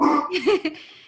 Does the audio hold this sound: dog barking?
yes